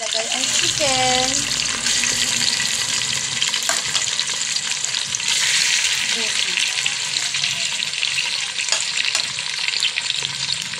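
Chicken fries in a pan for chicken curry with a loud, continuous sizzling hiss up close, a brief spoken voice near the start and a few clinks and stirs throughout.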